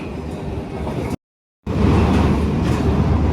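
The Sealdah-Kalyani AC local train rumbles along the tracks loudly and steadily, with a brief cut to silence partway through before the dense rolling noise returns.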